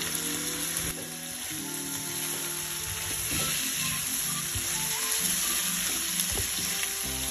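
Shrimp stir-frying in a pan with tomato, coriander leaves, green chili, onion, garlic and a little turmeric: a steady, close sizzle runs throughout, overlaid by rhythmic scraping and stirring strokes, with no voices.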